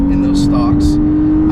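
A 2015 Lexus RC350 F Sport RWD engine hums steadily at a constant pitch in regular drive mode, a smooth cabin drone beneath someone talking throughout.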